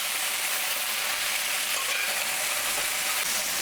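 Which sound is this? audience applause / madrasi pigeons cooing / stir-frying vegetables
stir-frying vegetables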